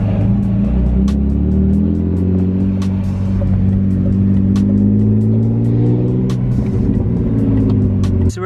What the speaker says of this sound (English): So we're hearing something scrape.